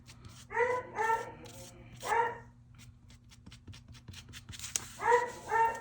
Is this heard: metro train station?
no